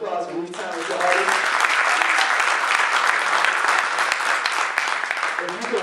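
Audience applause at a Black History tribute event, a sustained wash of clapping from a full room, loud and steady for several seconds.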